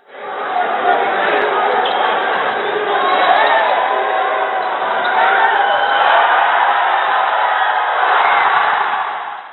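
A capacity crowd at a basketball game in Lugogo Arena fills the space with a loud, continuous roar of chatter and cheering, heard under a commentator's voice.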